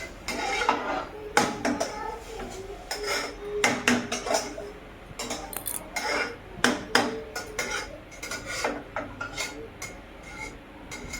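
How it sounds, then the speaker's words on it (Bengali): Clinks and knocks of a metal lid being set onto a cooking pot of lentils in a home kitchen, several sharp clatters scattered in quick irregular bursts, close and moderately loud. "এবার ঢাকা চাপা দিয়ে দেবো"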